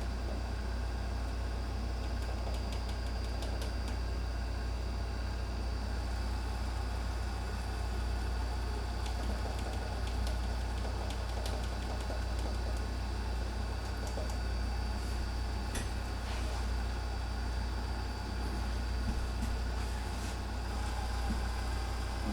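An FRL XP 235 M2 engine holds steady at about 1,360 RPM, making a continuous low rumbling drone that stays even and close throughout with no breaks.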